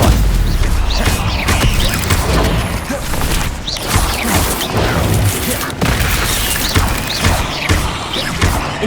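A Stupefy spell cast in Hogwarts Legacy, a dense loud barrage of booming magical impacts, crashes and thuds filling the whole stretch with almost no break, close and heavy.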